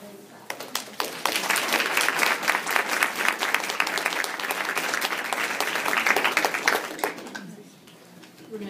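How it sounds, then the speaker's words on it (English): An audience at a member meeting breaks into sustained applause, many hands clapping close and steady for several seconds before tapering off. "So let's give him a hand clap."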